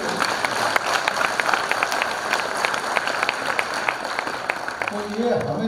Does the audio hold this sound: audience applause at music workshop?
yes